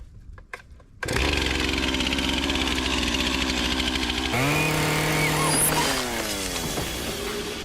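A Stihl MS-261C chainsaw starts after faint clicks, then runs loud and close, idling steadily before revving up and down in several throttle bursts.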